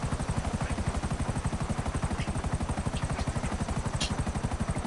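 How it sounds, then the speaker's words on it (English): A Buzzard helicopter in GTA Online flies steadily with a loud, fast rotor chop pulsing evenly throughout, close and alone with no talk. "So I usually just call up a CEO buzzard."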